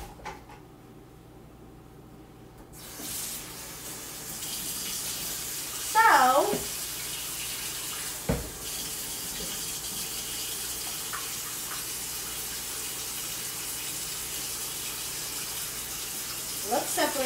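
Kitchen utensils, including a whisk, washed under a running tap. The water rushes in a steady stream, with a few clinks and knocks mixed in and brief talk nearby.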